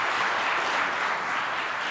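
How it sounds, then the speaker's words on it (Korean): Church congregation applauding during a Sunday service, a dense, loud wash of many clapping hands, close and continuous for a couple of seconds with no voices over it. "예, 박수하겠습니다."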